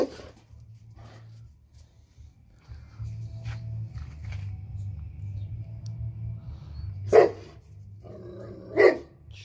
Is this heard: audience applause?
no